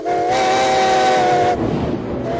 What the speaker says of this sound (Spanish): Cada vez que suena el silbato de un tren de vapor, llena el aire por completo.